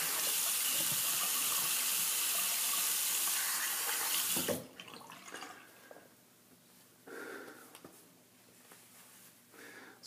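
Tap water running into a bathroom sink while a face is rinsed after a shave, a loud steady gush for about four seconds that cuts off, followed by quieter splashes and drips.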